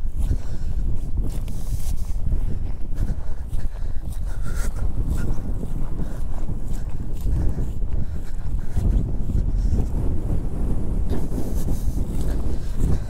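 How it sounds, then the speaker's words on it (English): Strong wind buffets an outdoor microphone, a continuous loud rumbling roar that gusts unevenly and stays close throughout. "I apologize for the wind."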